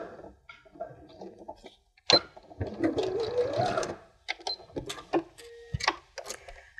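A domestic sewing machine stitches fabric for a scissors case, running in short bursts with rapid mechanical clatter and whir, close and fairly loud, with pauses and brief handling sounds between runs.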